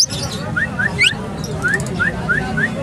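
A pet myna at a bird market gives a run of short, rising whistled chirps, repeated at a steady pace over a low background hum and faint noise.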